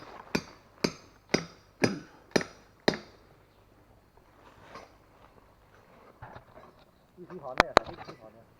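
Hardened, specially forged steel climbing pegs are driven into a tree trunk with a run of six sharp, evenly spaced hammer strikes, followed by quieter scraping and two more loud metallic hits near the end.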